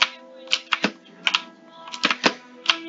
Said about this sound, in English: My keyboard is so loud.